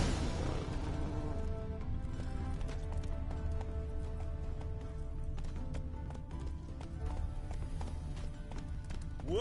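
Roach, a horse in The Witcher 3, gallops with a steady, continuous clip-clop of hooves throughout, close and fairly loud over a low ambient bed.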